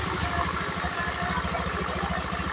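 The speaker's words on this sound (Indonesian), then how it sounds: "1 kali starter, motor sudah hidup langsung ya, normal. aman, suara halus" Motorcycle engine just started with the electric starter, settling into a smooth, steady idle with an even low pulsing throb, close and continuous.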